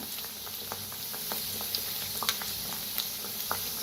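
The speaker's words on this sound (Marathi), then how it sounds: "तर आता 2-2 सोडून आपण तळून घेऊया." Kachori puffing up in moderately hot oil over a low flame gives a soft, steady bubbling sizzle. Small pops and crackles are scattered throughout, close by and fairly quiet, with no talk.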